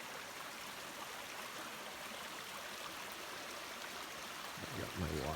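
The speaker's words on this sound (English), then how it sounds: "And a little stream." A small stream near a hiking-trail campsite gives off a steady, soft, broadband rush of flowing water, faint and continuous, with a brief thump near the end.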